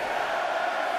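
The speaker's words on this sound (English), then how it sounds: "Listen to this crowd count the next one in." A large wrestling arena crowd at a Royal Rumble event roars together in a sustained, loud wash of voices, as if chanting a count in unison.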